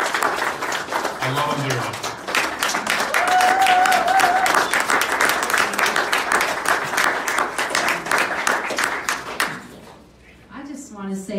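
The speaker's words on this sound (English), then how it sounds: "Big round of applause." A gathered audience gives a round of applause for Annette and Victor Fuentes, steady clapping over music with someone speaking over it before the applause fades out near the end.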